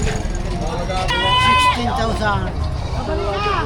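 Several goats bleat, wavering and nasal, over a busy background of crowd chatter and low noise at a livestock market in Padre Garcia, Batangas.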